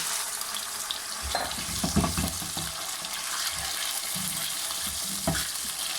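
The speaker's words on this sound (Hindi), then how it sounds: "इसमें जो मेरे पास चिकन पड़ा है सारा मैं इसमें ऐड कर देता हूँ इस तरह से" Chicken pieces added to hot oil for restaurant-style chicken karahi sizzle and crackle steadily on high flame, with occasional stirring scrapes and clatters of the pan over the constant frying hiss.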